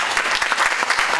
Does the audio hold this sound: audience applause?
yes